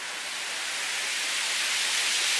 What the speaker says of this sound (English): got some more white noise, FX noise